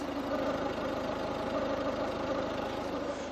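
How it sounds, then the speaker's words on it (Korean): A Volvo diesel engine idles steadily nearby, a smooth low rumble with a faint rhythmic knock and no other sounds. "디젤 엔진치고 굉장히 부드러운 엔진 소음으로 만나보실 수가 있는 차량입니다"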